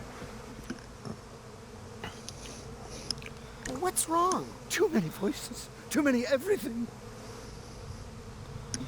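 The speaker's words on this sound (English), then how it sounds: "Want me to kill those bees?" Insect-like bees buzz steadily in the video game Psychonauts 2, a continuous drone that sits under several voices talking over it.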